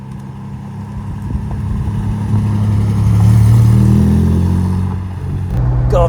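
A classic Ford Capri engine pulling hard under power, a loud close rumble rising in pitch as it accelerates, then easing slightly before picking up again, with no voices.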